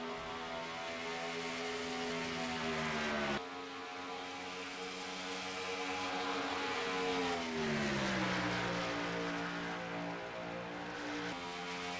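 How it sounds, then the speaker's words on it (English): Race trucks lap Darlington in a truck series race, a loud sustained engine roar whose pitch sweeps down and back up as the field passes. "One truck up ahead, that's Noah Shestau in the 30"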